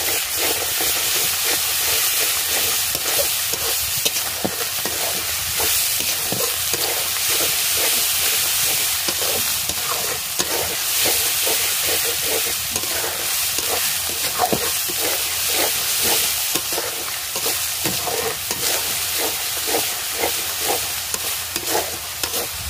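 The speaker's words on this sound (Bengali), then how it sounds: "আদা রসুন বাটা দিয়ে দিলাম" Ginger garlic paste frying in a hot pan, a loud continuous hissing sizzle with rapid rhythmic stirring strokes throughout, close up and without talking.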